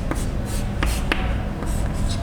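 Writing on a board during a chemistry lecture produces faint scratchy strokes and light taps that come in short bursts over a steady room hum.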